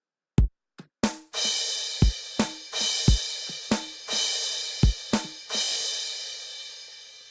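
Electronic bass drum thumps with a crash cymbal washing over them, the cymbal ringing out repeatedly between kicks.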